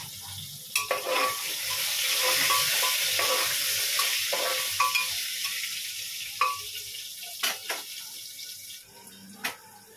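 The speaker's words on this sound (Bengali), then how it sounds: "আর তেলের মধ্যে পেঁয়াজ দিয়ে দিয়েছি ভাজতে" Sliced onions fry in hot oil with a steady close sizzle throughout, with clinks and taps of a utensil and a faint trickle of water during the final seconds.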